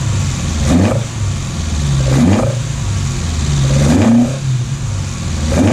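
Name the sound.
Datsun 1200 engine with dual Weber DCOE carburettors revving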